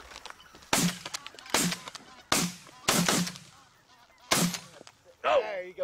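During a goose hunt, loud honking geese mix with several sharp gunshot-like cracks, about five strong bursts spaced a second or so apart, close and alone over a quiet outdoor background.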